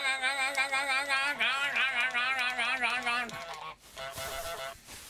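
Cartoonish goose honks from Untitled Goose Game, a rapid run of nasal, wavering calls stacked close together for about three seconds, then a brief rougher burst of noisy honking and clatter.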